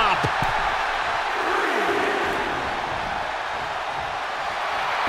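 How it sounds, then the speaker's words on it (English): A wrestling arena crowd in the WWE 2K23 video game, a broad, constant roar of cheering that fills the whole stretch with small swells and a few sharp thuds early on. "The sound of this crowd is deafening, and he's asking for more."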